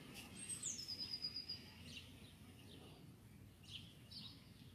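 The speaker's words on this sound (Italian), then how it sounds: "Sento gli uccellini, qualche macchina." Small birds chirping outdoors, a thin sweeping whistle followed by a few faint scattered tweets, distant and soft over low background noise and occasional passing cars.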